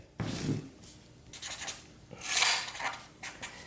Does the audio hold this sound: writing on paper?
yes